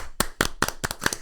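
A small college audience gives Chef Paul a few sharp, evenly spaced claps, about six distinct hand claps in quick rhythm, close and clear.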